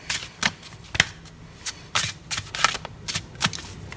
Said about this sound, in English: I love these cards, but they're so big, they're hard to shuffle.